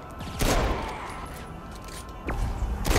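Gunfire in the video game Saints Row IV: a couple of sharp shots burst out near the start and again late, each followed by a brief ringing decay, over a busy game background.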